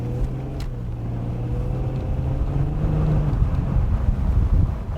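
A Nissan 350z automatic on a test drive, its steady low engine drone and road rumble filling the cabin with some wind buffeting, continuous and fairly loud, no one talking.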